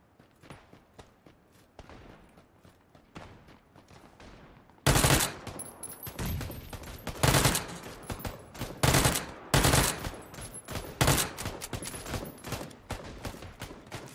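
Gunfire in the battle royale video game PUBG: after a quiet stretch, sharp loud rifle shots break out in rapid bursts and single cracks, repeating irregularly over the rest of the clip.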